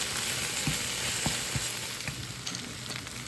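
Steady, loud sizzling and frying of spinach wilting in a hot pan for a smoked sausage pasta casserole, with occasional stirring scrapes and no talk.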